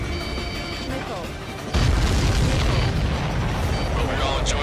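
Explosions in the flight combat game Ace Combat 7 hit as a loud, sustained burst of booming that begins about a third of the way in, over a steady background of engine roar and game sound.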